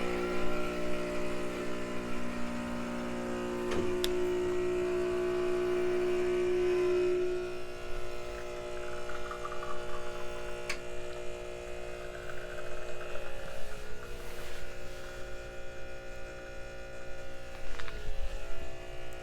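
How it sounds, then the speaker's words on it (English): A heat exchanger espresso machine pulls a shot with a steady electric pump hum and buzz that runs close and continuous, easing slightly partway through, with faint clicks and no talking. "let's pull a quick shot"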